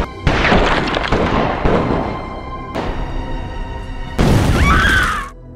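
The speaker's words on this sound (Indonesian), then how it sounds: "Hingga terjadi lagi aksi tembak-tembakan." A shootout in an action film erupts in several heavy booming bursts with sharp cracking and crashing impacts, loud and close, separated by brief lulls.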